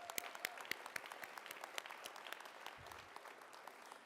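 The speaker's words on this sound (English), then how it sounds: "Let's give them a round of applause." Audience applause for faculty members who led education abroad programs, at an all-college meeting: dense, steady clapping from a sizeable crowd, fairly distant and moderate in level, sustained for the full four seconds without talk.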